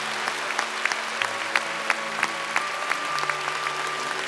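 Congregation applauding during a church thanksgiving service for a senior pastor's honorary installation and new senior pastor's inauguration, steady sustained clapping with sharper individual claps standing out, moderately loud and continuous with no talk.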